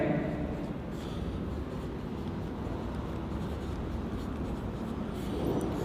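Chalk or marker scratching steadily across a board as a lecturer writes out a definition of a partial differential equation in a classroom, continuous and close, with no talking.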